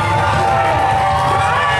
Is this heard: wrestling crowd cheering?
yes